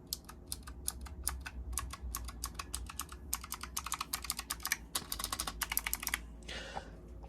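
Fast typing on a Razer Huntsman Mini keyboard with Razer Purple switches, a steady run of crisp, close clicky keystrokes with brief pauses and no talk.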